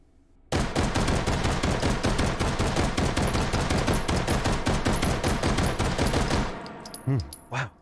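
A rapid, sustained string of gunshots from a Luger 1902 carbine fitted with a muzzle brake in the H3VR video game, loud and dense for about six seconds, then a few clattering handling sounds.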